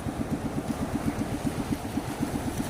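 A small boat engine idles steadily after starting, a close, even low putter with a regular pulsing rhythm and no voices over it.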